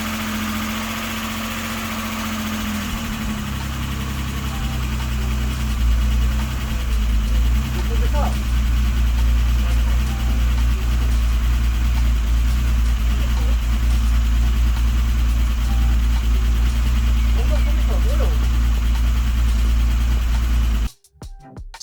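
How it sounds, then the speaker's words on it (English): A BMW E23 engine idles steadily just after its first start, a loud continuous low rumble with a constant hum that runs throughout and cuts off abruptly near the end. "So we have started the car so that we can start to run it up to temperature."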